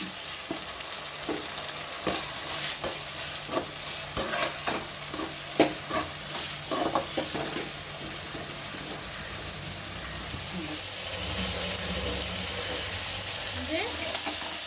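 Three large tomatoes sauté with softened onions in a pan for fish kuzhambu. A constant sizzle runs throughout, with repeated scraping strokes of a spoon stirring the mixture, louder in the middle and settling to a steadier hiss toward the end.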